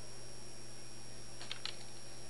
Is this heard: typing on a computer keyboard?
yes